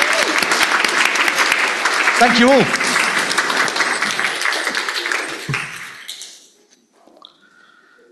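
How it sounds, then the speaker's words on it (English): Congregation at a church baptism service breaks into sustained applause, dense and loud for about six seconds before fading out, with a voice speaking briefly over the start of the clapping. "should we give you all a round of applause as you head back to your seats?"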